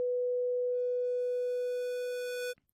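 A single steady square-wave synthesizer tone holds for about two and a half seconds, with buzzy overtones gradually fading in before it stops abruptly.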